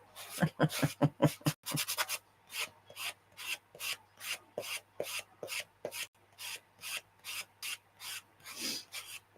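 Rhythmic rasping strokes of sandpaper rubbing on wood, quick at first then settling into a steady back-and-forth pace, close and clear.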